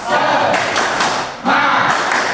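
An audience in a resilience training session claps together in a short rhythmic spirit clap, dense bursts of hand claps with brief gaps, close and loud with no talking.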